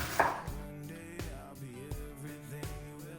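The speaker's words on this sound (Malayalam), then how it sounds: "ഇതൊക്കെ ഒന്ന് മുറിച്ച് ചെറുതാക്കി എടുക്കാം" Onions being chopped with a knife on a board for a ragi vermicelli upma: a handful of sharp, evenly spaced chops over steady background music.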